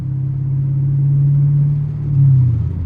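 A Chevrolet Camaro SuperSport accelerates hard on a road, its deep engine drone rising in pitch and swelling louder near the end, close and steady with no talk.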